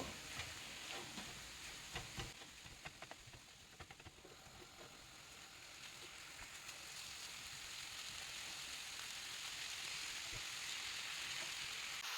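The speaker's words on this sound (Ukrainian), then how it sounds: "Смажимо фарш до того стану, коли пропаде оцей рожевий колір фаршу свіжого і не буде грудочок" A quiet, steady sizzling hiss of minced beef frying in a hot pan continues throughout, with faint crackles and no voices.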